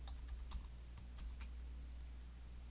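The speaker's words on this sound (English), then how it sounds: "type in the colon off the keyboard" Quiet keystrokes on a computer keyboard, a handful of light irregular clicks over a low steady hum.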